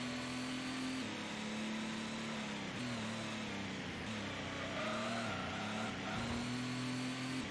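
A normally aspirated race car in Gran Turismo climbs steadily through its gears, a continuous loud engine note rising and dropping slightly at each shift, close and unbroken throughout.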